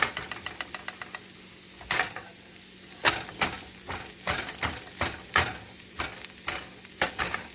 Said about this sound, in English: So now I'm going to smash them.